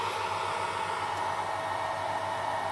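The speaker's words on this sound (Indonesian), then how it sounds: "Ini yang bunyi adalah kipas dari power supply." The power supply cooling fan of a homemade mini air conditioner and fridge runs with a steady, even whoosh and a faint low hum, continuous and unchanging with no voices.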